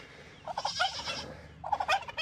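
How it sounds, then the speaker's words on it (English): A farm turkey gobbles loudly and close by in two rapid, rattling bursts separated by a brief pause, with no other voices. "Turkey, be quiet."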